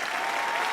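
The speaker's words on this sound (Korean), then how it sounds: "박수도 칠 수 있고요." Applause sound effect triggered in a metaverse virtual classroom, a short burst of dense, even clapping from a simulated crowd, bright and uniform with no talking over it.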